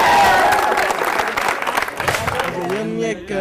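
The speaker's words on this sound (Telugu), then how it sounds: "Please clap for him." A college audience breaks into loud, sustained applause and cheering that fills the hall. A voice speaks over it, and the clapping thins near the end as a singing voice rises.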